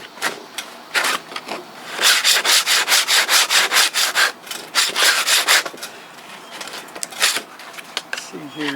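100 grit sandpaper rubbing back and forth on a wooden saw handle, a close, rhythmic rasping of steady strokes in bursts, with a voice talking at times.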